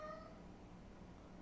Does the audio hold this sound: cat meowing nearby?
yes